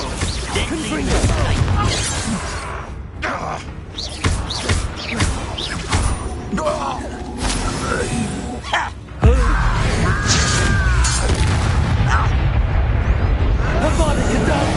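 A Confringo blasting curse in Hogwarts Legacy erupts into a loud, rumbling explosion with crashing bursts and a renewed blast midway, layered over game effects and a voice shouting spells.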